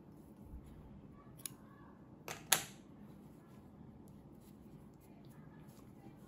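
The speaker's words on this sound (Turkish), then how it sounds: "İpliği kesiyorum." Scissors snipping knitting yarn after finishing a knitted dress, a single sharp close cut after a faint earlier click, quiet against a low room hiss.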